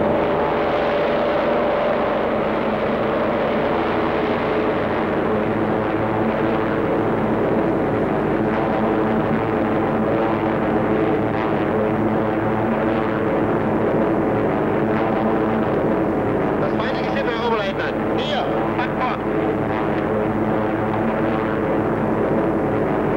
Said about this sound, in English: Unidentified planes off the starboard bow.